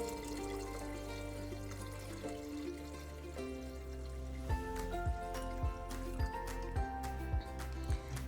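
Water pours into a pot for a bean soup, a steady liquid rush shifting in pitch as it fills, then a series of regular splashing pulses near the end.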